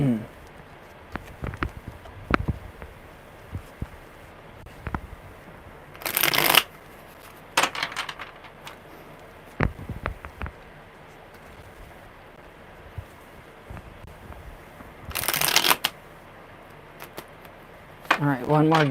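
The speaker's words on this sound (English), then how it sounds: "good shuffle" Tarot cards are shuffled in two loud, quick riffling bursts, separated by softer handling and tapping, close to the microphone during a live reading.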